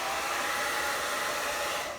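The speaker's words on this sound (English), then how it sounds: "that's why I got my hair dryer" A hand-held hair dryer runs to warm a clogged Delta 8 THC vape cartridge, a steady close whooshing blower hiss with a fan whine that cuts off near the end, no talking.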